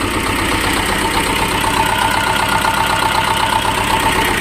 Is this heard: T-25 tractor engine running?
yes